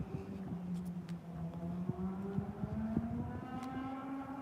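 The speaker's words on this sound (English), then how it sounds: "You hear the engine sound?" A car engine drones steadily at moderate distance, its pitch slowly rising, with a few faint clicks over it.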